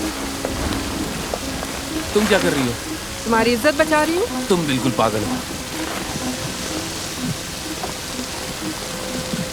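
Steady rain hisses and patters continuously in the background of a dubbed horror action film while people talk over it.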